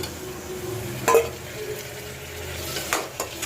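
A spoon stirs tomato pieces frying with green chillies and onions in a pan, giving a soft steady sizzle with a few sharp scraping clinks of the spoon against the metal, near and moderately loud, no speech.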